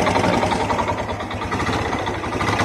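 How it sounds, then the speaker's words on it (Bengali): A Kawasaki Boxer motorcycle engine idles close by, its exhaust giving a smooth, steady, even rumble that holds unchanged for the whole stretch, with no one talking. "এবার শোনো গাইস, এক্সজস্টের সাউন্ড পুরো পুরো স্মুথ আসছে"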